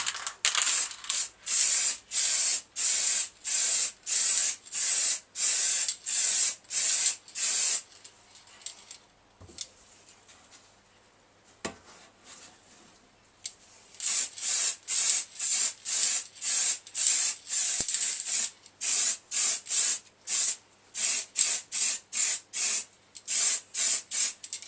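Spray gun laying a top coat of paint on a Harley 883 Iron belly pan in a garage, coming in repeated short hissing bursts, a quiet pause midway, then more rhythmic passes, close and loud.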